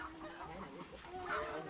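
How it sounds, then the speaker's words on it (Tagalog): Chickens cluck softly amid a busy outdoor background, with brief murmurs mixed in. "Ang bilis ng mga manok."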